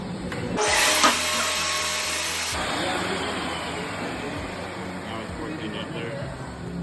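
A router bit trims and cleans the edge of an LCR Titan plaque, a loud high-pitched whining cut that runs for about two seconds near the start, then trails off into quieter workshop noise.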